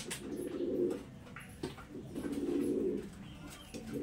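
Kaldom pigeons cooing up close, two distinct throaty coo phrases a couple of seconds apart, with a little soft background noise and no talk.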